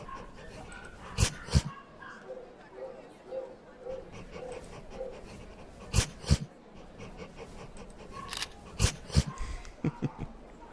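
Dog sounds from a trust-building video game, with soft whimpers, yips and breathy panting interrupted by several sharp loud transient clicks, all close and fairly clear.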